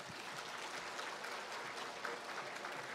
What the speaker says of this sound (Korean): 세종대왕 위해서 박수 한번 쳐줘봐